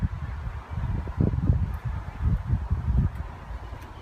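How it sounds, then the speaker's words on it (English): Gusty wind buffets the microphone in low rumbling bursts, rising and falling unevenly, with a faint hiss of outdoor air behind it. "Got windy here all of a sudden."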